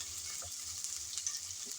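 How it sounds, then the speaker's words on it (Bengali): Ginger, garlic and onion fry in hot oil for a spicy shrimp bhuna, giving a soft, steady sizzle with faint hiss and occasional light stirring, alone and quiet. "আদা রসুন পেঁয়াজ ভেজে নিলাম।"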